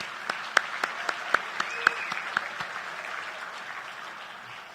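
Diners at a 16-inch softball Hall of Fame banquet give a round of applause, a few sharp nearby claps standing out over a softer room-wide clapping that gradually fades.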